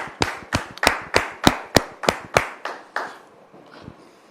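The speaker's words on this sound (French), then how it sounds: "sous vos applaudissements." Evenly spaced sharp claps welcome a guest onto a television studio set: about ten crisp, close hand claps in a steady rhythm that stop after roughly three seconds, followed by a faint tap.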